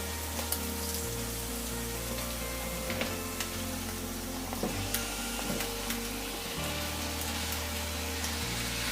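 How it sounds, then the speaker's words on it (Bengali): Chopped ash gourd tipped into a pan of well-fried spice paste for a hilsa fish curry, giving a steady close sizzle with stirring scrapes and low clatter throughout, no talking. "এখন আমি এটাতে কেটে রাখা কুমড়োটা দিয়ে দিচ্ছি, চাল কুমড়ো"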